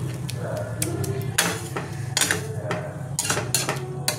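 Metal clanks and clinks as a lid goes onto a cooking pan of Bengali-style egg shakshuka sauce with chili flakes and a little water, a few sharp knocks over a steady low stovetop hum.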